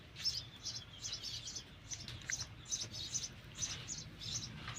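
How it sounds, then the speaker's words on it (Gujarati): A sparrow feeding its nestlings in a village, with rapid, repeated high chirps in a steady rhythm, fairly faint and close, over low background noise. "જો ચકલી આવી આખો દી બિચારી ખવરાવ્યા જ રાખે"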